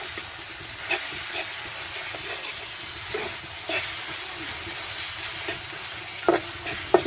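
Dried fish cooked with spices in a pan gives off a constant sizzle and hiss, with occasional stirring scrapes. It is close and sustained, and no one speaks.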